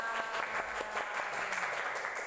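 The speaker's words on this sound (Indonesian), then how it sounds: "tepuk tangan." An audience in a classroom or lecture setting claps together, a steady run of applause with individual hand claps standing out, close and continuous, with a voice briefly audible.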